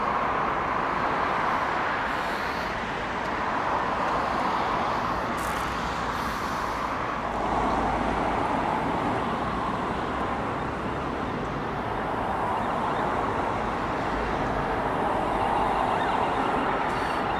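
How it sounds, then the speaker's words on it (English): Steady road traffic rumbles on near a river bridge where people are coarse fishing on the Tas near Norwich, Norfolk, a continuous broad wash of passing cars and heavier vehicles with no pauses. "Lovely spot to fish, apart from the noise of the traffic."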